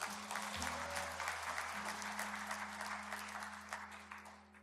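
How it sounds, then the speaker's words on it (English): An Easter Sunday church congregation gives a round of applause: soft, fairly distant clapping spreads evenly through the hall over a low steady hum. "Give yourselves a round of applause"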